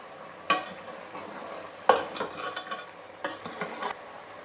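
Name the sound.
stirring chicken malai handi spices in a pot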